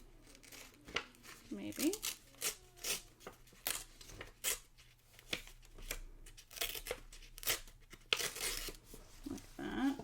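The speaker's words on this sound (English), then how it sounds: "I think I'm going to rip just one edge," Paper is torn along one edge for a scrapbook layout: a series of quiet, close rips and crinkles in short bursts, with soft speech between them.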